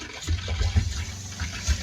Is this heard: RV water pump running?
yes